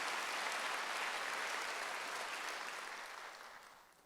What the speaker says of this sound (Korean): 박수로 하시죠